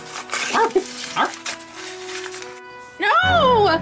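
A small animated dog in a LEGO City Christmas cartoon gives a short yip with a rising and falling whine near the end, loud and close, after a stretch of voices.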